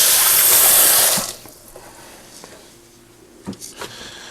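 Running tap water rinsing something in a kitchen sink while preparing a bacon-wrapped mac and cheese stuffed meatloaf, a steady loud rush that cuts off after about a second, followed by quiet handling noises.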